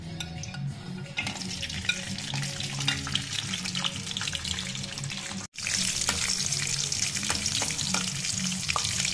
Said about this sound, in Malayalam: നെയ്യ് ഒന്ന് ചൂടാക്കിയിട്ട് അതിനൊപ്പം കശുവണ്ടിയും മുന്തിരിയും ഒക്കെ ഇടാൻ പോവാണ്.